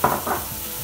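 Onion hitting hot oil in a pan gives a short burst of sizzle that fades into a steady fry, with faint pan clatter and no talking.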